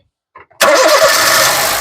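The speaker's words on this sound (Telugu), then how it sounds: "సింగిల్ సెల్ఫ్ లో కార్ స్టార్ట్ అవుతుంది" A 2013 Honda City S manual car engine cranks briefly, then catches and settles into a steady running hum, close by.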